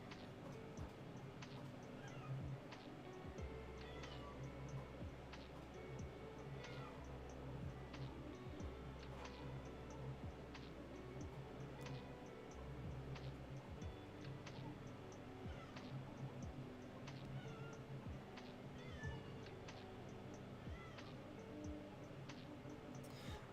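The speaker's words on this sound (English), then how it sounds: "I'm going to retrieve a cat who's being absolutely obnoxious." An indoor cat meows repeatedly and insistently across the stretch, over a faint steady ticking in the background.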